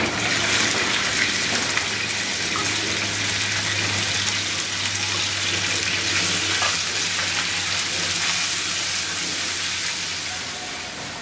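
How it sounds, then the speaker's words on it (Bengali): Thin slices of chicken breast fry in soybean oil with a loud, dense, continuous sizzle and bubbling close by, under a low hum. It fades slightly at the end. "এগুলাকে এরকম চিকন পাতলা করে এগুলাকে আমি একটু ভেজে নিব"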